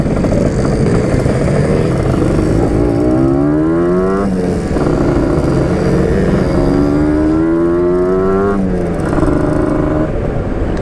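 A Yamaha RX King motorcycle with an aftermarket racing exhaust revs loudly and steadily up close, its engine note climbing in several rising sweeps while riding along.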